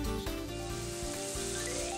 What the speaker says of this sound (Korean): 지글지글 맛있게 익어가는 고기, 소리만 들어도 군침이 돕니다.